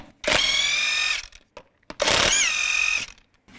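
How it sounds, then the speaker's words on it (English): A power tool, likely an impact wrench with a 19mm socket, spins lug nuts off the wheel of a 2002-2009 Chevy Trailblazer in two loud, whining bursts of about a second each, separated by a short pause. "Take the lug nuts off."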